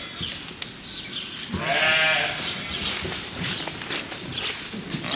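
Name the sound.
lambs bleating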